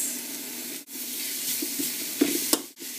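Finely sliced onions and peppers are turned over in a hot pan with allspice, a soft continuous sizzle broken by a few scraping stirs and brief pauses.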